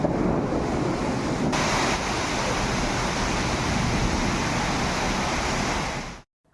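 Heavy rain with thunder and lightning pours down and water floods the roads in Tiruchengode and Mallasamudram, heard as a loud, steady roaring wash of noise that cuts off abruptly at the end.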